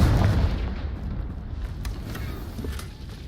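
A deep, booming blast from the Confringo spell in a Harry Potter video game, a heavy low rumble hitting at the start and then rolling into a sustained crackling roar with a few sharper pops.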